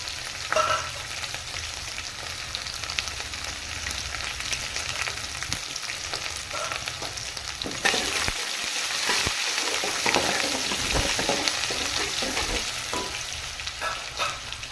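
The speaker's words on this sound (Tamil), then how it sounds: "இப்போ வந்து நம்ம வெங்காயம் சேர்த்துக்கலாம் இப்போ ஜீரகம் சேர்த்துக்கலாம்" Onion and cumin crackle and sizzle in hot oil for a dal and drumstick sambar, a steady, loud, close frying hiss that swells and thickens halfway through, with no voices.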